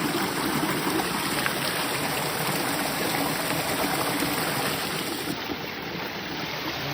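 Continuous roar of a waterfall, loud and unbroken, a thick wash of splashing water with no talking.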